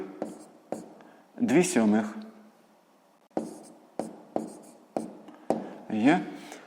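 Pen or pencil strokes on paper in a math exercise, a run of short scratchy bursts and brief scribbles at close range, with a low voice murmuring in between.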